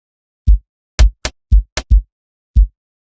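Amapiano percussion pattern programmed in FL Studio: seven short, punchy low drum hits in a syncopated groove, dry and close with silence between strikes.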